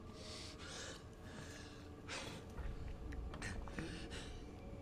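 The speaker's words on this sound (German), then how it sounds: "Er atmet hier." Heavy, ragged breathing and gasps from a character in the video game Resident Evil 2 Remake, a few sharp intakes over a low dark ambient rumble, close and quiet.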